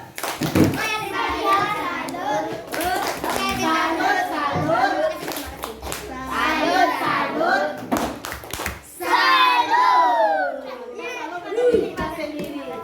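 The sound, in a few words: children doing a rhythmic 'tepuk salut' clapping routine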